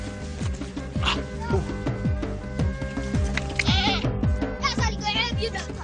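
A goat foraging on fruit and leaves in Ethiopia's Danakil region near Dallol bleats in several short, nearby calls amid faint rustling and steady background noise.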